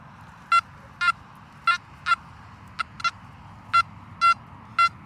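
A Makro Gold Kruzer metal detector sweeping in a field gives a high signal tone as a run of about nine short, bright beeps at irregular intervals, some doubled, over a quiet low background hum.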